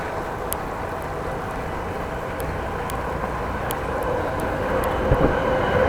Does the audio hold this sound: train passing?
yes